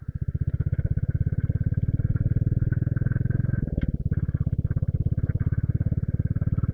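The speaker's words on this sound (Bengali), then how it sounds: "ওটা সাজিদ ভাইয়ের মোটরসাইকেল" A motorcycle on a village road thumps with a loud, close, rapid and even engine beat that briefly shifts pitch midway, with no talk over it.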